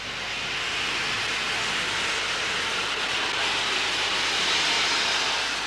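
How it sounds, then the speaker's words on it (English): Pure steam venting from a preserved steam locomotive at a heritage railway, a loud continuous broadband hiss that swells slightly and holds steady, close by with no talk. "This is pure steam here, what's coming out now."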